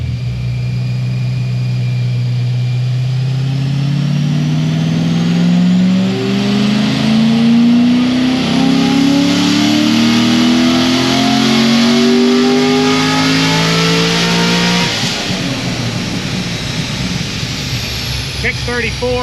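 Chevrolet Corvette C6 ZR1 with a stout stage 3 build roaring through a full dyno pull, engine note climbing steadily in pitch for about fifteen seconds before abruptly backing off, loud and close throughout.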